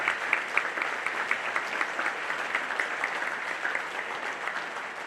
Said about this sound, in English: please join me in a richly deserved round of applause for all of the Hall of Fame Committee members